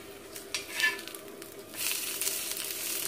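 Moringa flower pakoda sizzles in oil in a pan: soft crackling frying with scraping stirs, swelling to a louder continuous sizzle in the second half, close and without talk.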